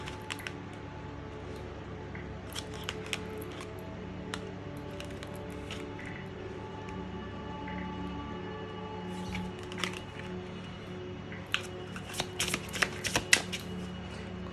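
Oracle cards being shuffled during a pick-a-card reading, heard as repeated soft riffling and clicking card flicks over a steady background hum, with sharper bursts of card snaps toward the end.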